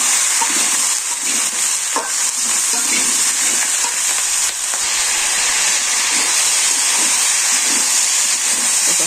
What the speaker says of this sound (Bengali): হলুদের গুঁড়া, মরিচের গুঁড়া দিয়ে ভালোভাবে একটু কষিয়ে দেব